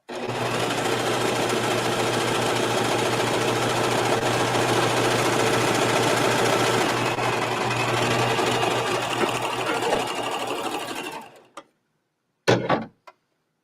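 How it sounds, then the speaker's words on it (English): A serger stitches a 3-thread narrow overlock along the bottom edges of a scarf, a loud, steady rapid mechanical chatter running for about eleven seconds before stopping, followed by a few brief handling knocks. "this is a 3-thread narrow overlock I'm doing right now just to finish the bottom edges"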